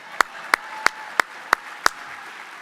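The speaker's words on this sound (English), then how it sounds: "Can we give him a round of applause?" At a humanitarian award gala, a lone pair of hands claps six times in a slow, even rhythm. The claps are sharp and distinct against a quiet room, with no crowd joining in.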